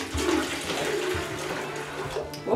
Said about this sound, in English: Then I would have to add some hot water.